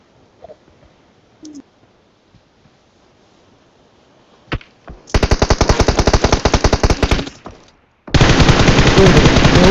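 In the mobile game PUBG Mobile, an M416 rifle sprays rapid automatic fire in two loud sustained bursts after a few faint clicks and a single shot, the second burst dense and continuous.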